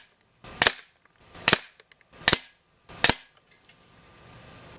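Umarex Notos PCP air rifle firing four sharp, evenly spaced shots about a second apart, each a crisp loud crack with a brief decay, close by and with no talking.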